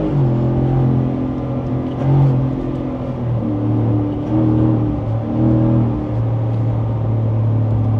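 2024 Ford F-150 pickup fitted with a Pedal Commander throttle controller, heard from inside as a steady, loud low engine drone that rises and shifts in pitch a few times while accelerating, with no talk.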